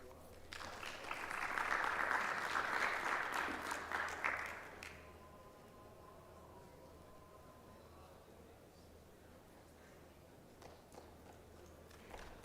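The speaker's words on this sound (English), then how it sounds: "Oh, we had a clap." Clapping from a conference audience at a football summit main stage, a moderate burst lasting a few seconds that fades out, then a quiet room with faint background sounds.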